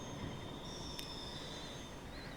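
Trains run in the railway simulation game Transport Fever 2, with a faint, steady rolling rumble, a thin high wheel squeal drifting along, and a single sharp click partway through.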